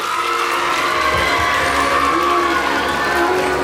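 Audience at a school annual function applauding a best student of the year, a steady dense wash of clapping with some cheering throughout, fairly loud and continuous.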